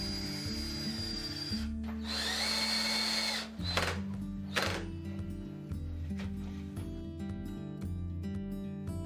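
A power drill drives screws with washers through a TV wall mount bracket into the wall, giving a sustained whirring burst followed by a shorter spurt, over a steady low tonal background.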